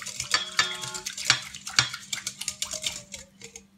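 Butter is stirred into a bowl of ingredients, a utensil clinking and scraping against the side in a steady, fairly loud rhythm of close strokes.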